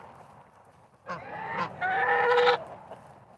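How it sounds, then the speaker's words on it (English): Geese kept with chickens and a rooster in a farmyard give a close, loud burst of nasal honking, two overlapping calls lasting about a second and a half against a quiet background. "if the geese aren't completely destroying the sound"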